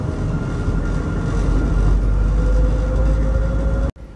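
Steady low rumble of the Soekarno-Hatta Airport SkyTrain shuttle running between terminals, a constant mechanical hum with a faint whine, cutting off abruptly near the end.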